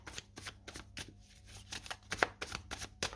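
Oracle cards are shuffled and handled up close, a steady series of crisp flicks and riffles with a few soft slaps as cards are set down, no talking.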